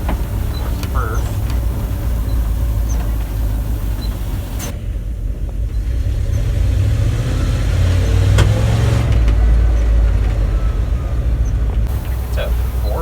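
An old 4-speed water truck drives with its engine droning loudly up close, pitch rising and falling through gear changes, while people talk over it inside the cab.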